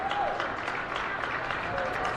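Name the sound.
student section cheering at a high school volleyball match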